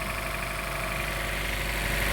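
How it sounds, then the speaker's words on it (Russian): A Honda Shuttle car engine idling cold at 163,714 km, a steady close mechanical hum with a faint knocking vibration, no voices. "На холодную просто. Двигатель так работает."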